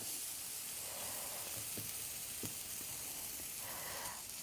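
Blueberry oat pancakes cook in a hot pan with a steady, even sizzle and soft hiss, close and fairly quiet, broken by a few faint ticks.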